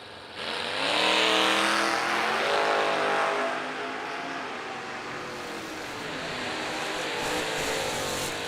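A big-block drag racing car, the Richardson machine, roars loudly at a drag strip, its engine note surging and sustained before settling into a steady, slightly softer drone that holds to the end.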